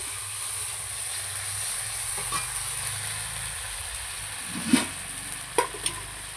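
Ginger paste and spices frying in a pan over a clay village stove, a steady soft sizzle with a few brief stirring scrapes near the end.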